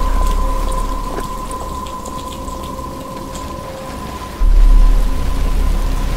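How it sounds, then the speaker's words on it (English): Steady rain falls in the Batman: Arkham Asylum video game, a continuous hiss layered with a low hum and faint tonal drones, growing louder partway through with no speech. "But it's starting to rain."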